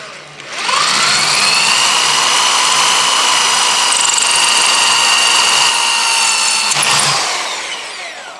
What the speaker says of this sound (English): Now I'm ready to drill the second hole.